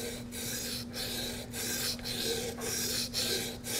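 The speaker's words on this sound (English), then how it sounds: "To use a honing guide, I put two fingers up on the blade, put pressure down on that bevel, and then you're just going to use as much of the stone as you can." A chisel blade held in a honing guide is pushed back and forth across a sharpening stone, giving a steady, close rasping scrape in regular strokes with brief pauses between them.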